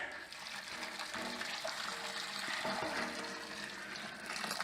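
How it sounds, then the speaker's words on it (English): Water pours steadily into a home-brewing container for an Irish stout kit, a continuous splashing rush, close by, filling the whole stretch. "Now I just pour the water in."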